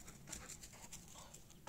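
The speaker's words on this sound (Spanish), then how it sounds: "Es mi perrita." A hunting dog pants in quick, rhythmic breaths, faint and fairly close, during a thrush hunt in Andalusia, with outdoor noise around it.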